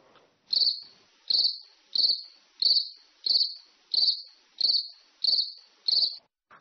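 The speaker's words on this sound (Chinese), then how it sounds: "就是蟋蟀的声音" A single cricket sings from night grass in nine evenly spaced, shrill pulsing chirps, close and clear against an otherwise quiet background.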